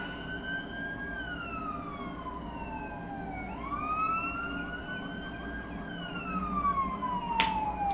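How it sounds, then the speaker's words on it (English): A loud emergency vehicle siren wails through repeated rising and falling sweeps as it passes nearby, with road traffic rumbling underneath and a sharp click near the end. "And there's a siren."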